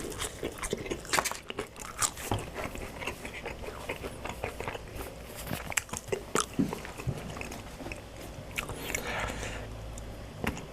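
Close crunchy biting and chewing of McDonald's fries, a steady run of crisp bites and mouth noises over several seconds with no talk.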